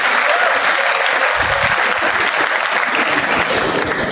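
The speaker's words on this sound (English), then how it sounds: "So big round of applause for yourself," A sustained, loud round of applause from an audience at a university orientation program for new first-year undergraduate students, dense steady clapping throughout with no pauses.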